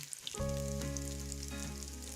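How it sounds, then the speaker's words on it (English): A low steady hum starts abruptly, with faint crackling over it as vegetable patties fry in a pan. "I'm gonna wait for these to fry"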